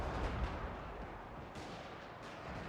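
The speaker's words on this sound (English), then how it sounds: "The Thunderers on the right flank have managed to push through and are now shooting into the flank of these handgunners." Thunderer handgun volleys in a Warhammer tabletop-battle game, a steady wash of distant crackling gunfire with a few sharper reports, rumbling continuously without any voices.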